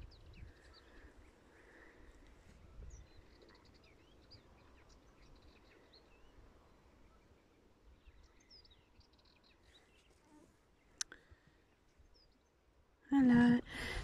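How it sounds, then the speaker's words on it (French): Birds singing outdoors in a small tree, with faint scattered chirps and whistles over quiet background rustle, and a sudden loud close burst near the end. "Je sais pas si vous entendez les oiseaux."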